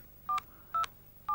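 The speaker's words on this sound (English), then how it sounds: "enter the number you want to call into the keypad" Three short keypad tones from a Nokia mobile phone, evenly spaced and crisp, each a brief dual-pitch beep with no talk over them.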